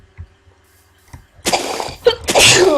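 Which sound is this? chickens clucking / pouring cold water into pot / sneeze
sneeze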